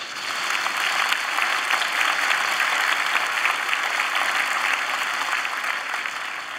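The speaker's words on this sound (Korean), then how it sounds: "우리 권사님들 위해서 큰 격려 박수 한번 해주세요." A church congregation gives sustained, even applause during a dedication and ordination service, the dense clapping holding steady from start to finish.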